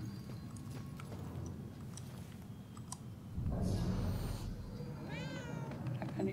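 A cat meows in the video game Murdered: Soul Suspect, one short rising-and-falling call standing out near the end over a steady, dense background of game ambience and soft clicks.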